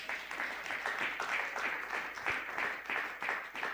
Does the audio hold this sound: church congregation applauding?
yes